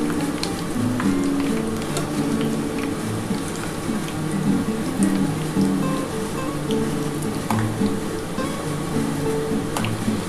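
Raw banana fritters (kacha kolar bora/pakora) frying in plenty of hot oil, giving a steady, close, continuous sizzle and crackle throughout with no talk.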